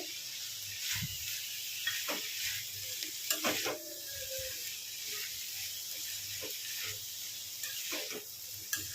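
Broad bean and tomato curry sizzles softly in a pan as cut tomatoes go in, with scattered clinks and scraping stirs over a steady low hiss, fairly quiet throughout.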